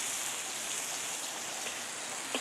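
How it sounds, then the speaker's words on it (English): Steady rain drums on a farmhouse roof, a dense continuous hiss with a few distinct drop taps near the end, heard alone with no voices. "the sound of the rain on the roof"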